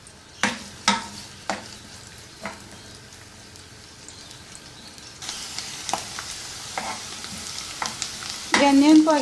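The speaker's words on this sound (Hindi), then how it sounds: "सबसे पहले अनियन स्लाइसिस को इसमें हल्का सा सौते कर लें।" Sliced onions sautéing in a pan, a steady soft sizzle broken by occasional sharp stirring knocks, growing louder and more crackling toward the end.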